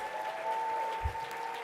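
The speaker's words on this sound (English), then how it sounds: "Round of applause." An audience applauds the judges at a live awards-show stream, a brief burst of clapping heard at moderate distance in a hall.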